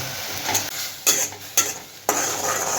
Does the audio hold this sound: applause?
no